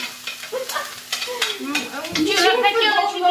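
Chopped onion and carrot stirred and frying in an iCook pot, with a busy sizzle and scraping stir sounds building toward the end, close and moderately loud, under faint background talk.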